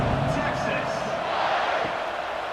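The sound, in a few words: stadium crowd in a college football video game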